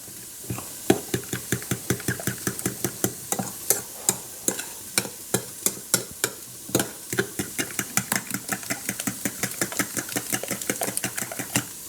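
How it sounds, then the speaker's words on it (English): A whisk or spoon works ingredients into egg wash for a rustic meatless Italian soup, tapping and scraping around a bowl in quick, steady clicks that run continuously and up close, with no voices. "just keep mixing it until it gets all absorbed into our egg wash"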